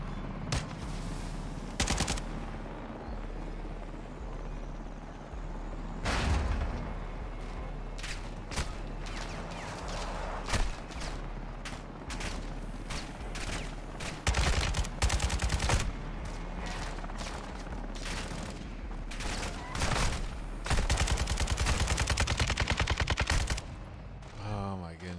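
Light machine gun fire rings out in the Call of Duty: Modern Warfare II campaign, long bursts of rapid shots mixed with scattered single cracks, loud and close, recurring throughout a busy battle.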